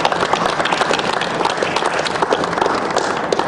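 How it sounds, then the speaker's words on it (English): An audience at parliamentary speeches in Perth breaks into sustained, dense applause, many hands clapping loudly and close together for several seconds without a break. "I think we should give everybody a round of applause to start with."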